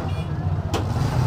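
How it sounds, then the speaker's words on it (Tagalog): Road traffic passing nearby, a steady car and engine rumble with a brief louder whoosh of a vehicle going by midway, continuous and fairly loud. "Ayan tayo umaabot ng traffic ngayon"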